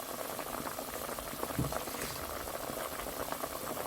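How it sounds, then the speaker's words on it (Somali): A pot of goat meat simmers in boiling water with olive oil and chicken broth, giving a continuous close bubbling and gurgling with one slightly louder pop, and no talk. "hilibku soo bislaanayaa biyahana way gursaday"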